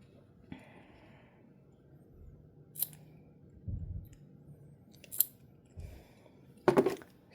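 Scissors snip the tag end of braided fishing line close to a knot, giving a few crisp, separate cutting clicks with handling noise and quiet shuffling between them.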